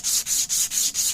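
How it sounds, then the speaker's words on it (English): A rifle barrel being sanded with 150 grit sandpaper in quick, even back-and-forth strokes, a soft close scratchy rasp repeating about five times, with no talking. "you're just going to work your way down the barrel with the 150 grit"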